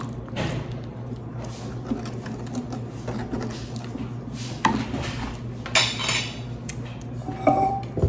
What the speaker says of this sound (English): If I can find my spoon.